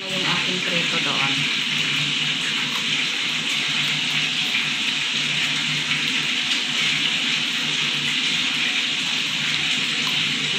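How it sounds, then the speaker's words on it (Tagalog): Fish frying in hot oil in a home kitchen, a continuous broad sizzle holding steady and fairly loud the whole time, with no talking over it. "Ngayon aking prito doon."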